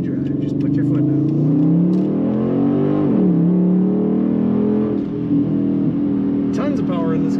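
A 2009 Dodge Challenger SRT8 V8 engine revs and climbs in pitch under acceleration, dipping briefly as it shifts before pulling again, loud and close with a deep rumbling tone.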